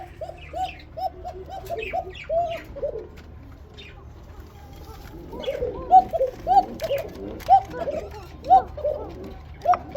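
Pigeons at a breeding setup coo in repeated rolling calls, fairly close and loud, with rhythmic bursts building toward the end and faint chirps in the background.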